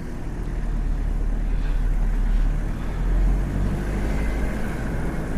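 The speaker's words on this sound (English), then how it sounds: "So I'm just taking off in second gear" A 1992 Toyota Hiace diesel 4WD dual-cab fire truck pulls away in second gear, with a steady, loud low engine rumble that swells slightly midway.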